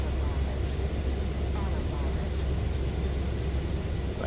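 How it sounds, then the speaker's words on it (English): Steady low jet engine drone of an FSS E175 airliner in Microsoft Flight Simulator, heard during a landing approach; a continuous, even rumble that fills the whole stretch with no breaks. "my airplane sounds are up."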